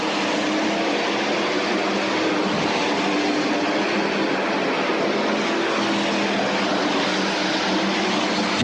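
A dirt late model race car with a Masterbuilt chassis runs on the Eldora Speedway oval, its engine roar blending with other cars in a loud, continuous drone that holds steady throughout with no talk.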